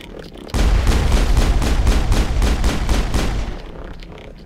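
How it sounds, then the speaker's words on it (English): Rapid pistol gunshots from the Mass Effect video game crack in a dense, loud burst of about a dozen shots, firing steadily for three seconds before tapering into a fading tail. "Yeah, that's a pistol."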